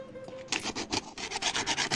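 A spoon scrapes husks off the surface of a calabash bowl in close, rough rasping strokes, repeating in a steady rhythm of roughly three to four per second after a quieter start.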